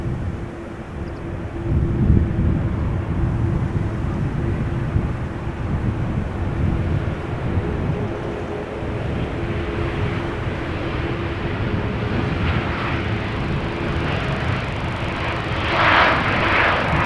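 An ITA Airways Bombardier C Series 300 (A220) arrives at Amsterdam Schiphol, a loud, steady jet roar with wind buffeting and a faint whine, holding level throughout with no talk.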